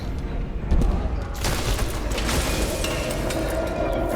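Gunfire in the detective game Nobody Wants to Die, a burst of shots at a fancy party scene, loud and dense over a continuous rumbling game soundscape, with no talking.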